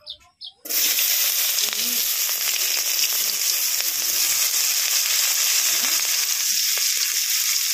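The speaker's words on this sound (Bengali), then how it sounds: "এবার তেলের উপরে পেঁয়াজ কুচি আর টমেটো কুচিটা দিয়ে দেবো।" Chopped onion and tomato hitting hot oil, a sudden loud burst of sizzling after a brief quiet moment, then a sustained steady frying hiss with faint scrapes.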